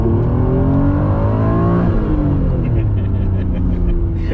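A Honda NSX climbs a very steep hill, its engine droning loudly and steadily with rising and falling pitch, heard from inside the car.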